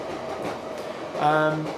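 A train rolls past nearby, its low rumble and harmonic tonal whine rising over the last half second beneath a brief spoken word.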